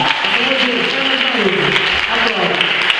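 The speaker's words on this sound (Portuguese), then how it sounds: "Dá um aplauso bem forte para o Senhor." Church congregation clapping hard at an evangelical service, continuous close applause with voices and cheering woven through it.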